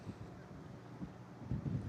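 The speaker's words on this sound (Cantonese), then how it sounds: "呢度而家行咗嚟呢度超級大風啊" Strong seaside wind buffets the microphone in low, rumbling gusts, brief and fairly faint.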